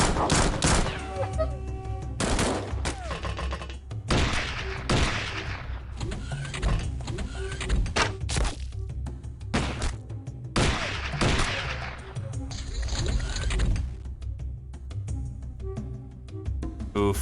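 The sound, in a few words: mortar and gunfire in the video game Xpiratez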